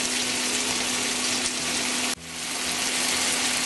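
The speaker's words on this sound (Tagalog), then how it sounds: "ginigisa rin natin itong kamatis hanggang sa maluto ito ng bahagya" Tomatoes sauté in a pan for pork with Baguio beans, giving a loud, steady, close hiss of frying with a brief dip and jolt partway through as the pan is stirred or moved; no voices.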